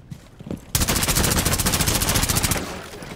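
A rapid automatic burst of gunfire from the Rainbow Six Siege video game on the Emerald Plains map, loud, dense and sustained for about two seconds after a brief quiet lead-in.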